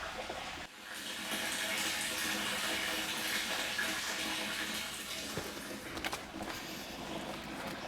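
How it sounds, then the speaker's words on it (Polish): Rainwater runs from other tanks into an IBC tank on a garden allotment, making a steady, continuous rushing and splashing that stays level for several seconds at a moderate distance. "W międzyczasie napełnia mi się tutaj Mauser deszczówką z innych zbiorników."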